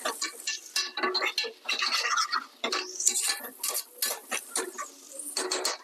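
A spoon stirs onions frying in a pot for vegetable biryani, producing close, uneven scraping and clattering bursts against the metal over a faint sizzle, with no one speaking.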